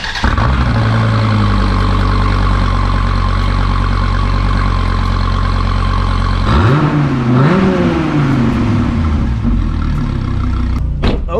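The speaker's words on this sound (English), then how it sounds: "Where do we do a cold start on the Viper?" A Dodge Viper engine rumbles loudly and steadily at close range, then shifts pitch midway as the revs rise and fall before settling again.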